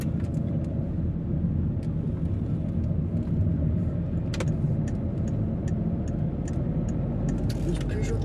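Peugeot 5008 driving on a French road, a steady low engine and road rumble filling the whole stretch, with faint clicks and a brief louder rush partway through.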